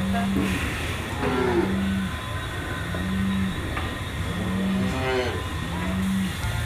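Dairy cows mooing repeatedly on a dairy farm at milking time, several long low moos spaced a second or so apart over a continuous mechanical hum, with faint voices in the background.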